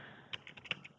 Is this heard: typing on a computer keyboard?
yes